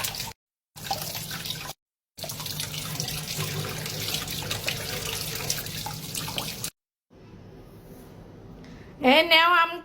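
Tap water runs while mangoes are washed in a kitchen, gushing in several bursts broken by short pauses, followed by a quieter stretch and a voice speaking at the end.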